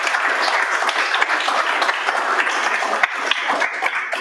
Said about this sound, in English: we'll wrap up there with a quick round of applause again for Laszlo.